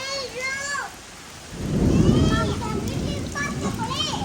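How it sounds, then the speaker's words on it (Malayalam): Heavy rain roaring down during a storm with thunder and lightning, a deep rumbling swell, and people talking before and after the loudest stretch. "മഴ ഇപ്പൊ നല്ല അടിപൊളിയായിട്ട് പെയ്തുകൊണ്ടിരിക്കുകയാണ്"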